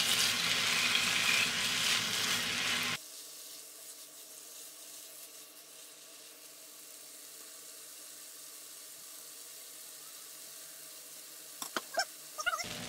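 Basmati rice is fried in a pot for shrimp and sausage jambalaya. A loud close sizzle lasts about three seconds, then drops to a quiet hum, with a few clattering knocks near the end.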